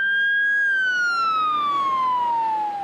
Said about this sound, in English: The siren went up the very next morning